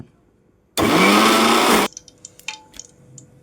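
A mixer grinder blending green chillies, peanuts and tamarind roars loudly for about a second and then cuts off, followed by faint clinks and small knocks.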